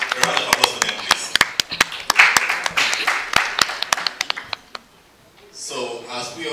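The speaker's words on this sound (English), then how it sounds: "A round of applause for them, please." Scattered clapping from a small group at a gathering, sharp individual claps in an irregular rhythm that thin out and stop near the end, followed by a voice speaking.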